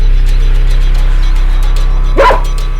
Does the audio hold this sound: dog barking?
yes